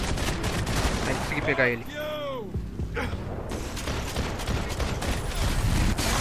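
Gunfire in Max Payne 3, with sharp dense shot bursts at the start and again in the back half, interrupted by a quieter stretch in which someone speaks over the action.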